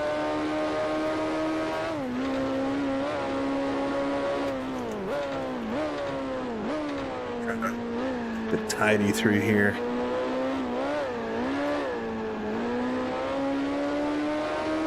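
Maserati race car in Grand Prix Legends, its engine droning steadily with the pitch rising and dipping through gear changes, a brief tyre squeal near the middle, and someone speaking over it.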